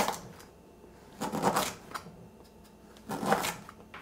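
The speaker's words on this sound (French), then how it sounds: "Vu que j'en ai besoin de juste la moitié, je vais couper ici. Et là, on va venir faire des petites rondelles." A knife cutting half a stalk of lemongrass into small rounds on a board, two clusters of quick crisp chopping taps close by with quiet pauses between them.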